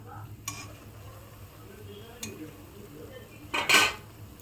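Naan is flipped in a hot kadai of frying oil: a low sizzle runs underneath while a few sharp metal utensil clinks strike the pan, the last one loudest, heard close up.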